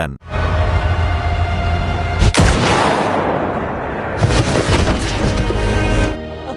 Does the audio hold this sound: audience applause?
no